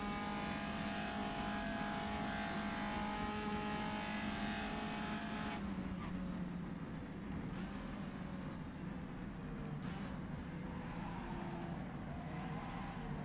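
A race car in the rFactor racing game runs past the start-finish line with a steady, dense engine drone that shifts tone partway through and carries on without a break.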